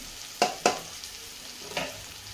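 Spinach stir-fry with crushed peanuts being stirred in a pan, heard as two quick close scraping strokes and then a softer third one over a faint background hiss.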